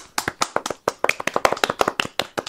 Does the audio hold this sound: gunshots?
no